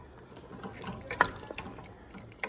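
Water poured into a pot of carne guisada gravy in a home kitchen, a faint splashing trickle with a couple of small drips.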